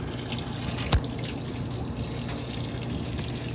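A Maytag 5.3 cu.ft washer agitating towels on a bedding cycle gives a steady, close wash of sloshing water and motor hum, with one sharp knock near the start and no talking.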